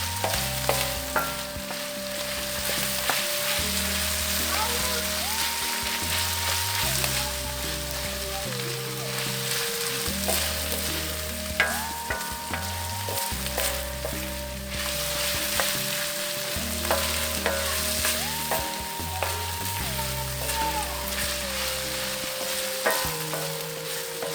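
Meat frying on a saç pan over a wood fire in a village, a steady close sizzle and crackle with intermittent scraping as pieces are stirred and turned, no voices.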